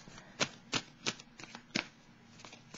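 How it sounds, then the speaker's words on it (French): Tarot cards shuffled and drawn by hand, heard as a run of crisp, close riffling snaps at irregular intervals over a soft, steady hiss, with no talking. "Je vais piger une autre carte."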